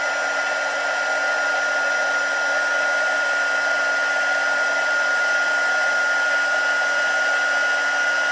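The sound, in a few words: heat gun heat embossing a card sentiment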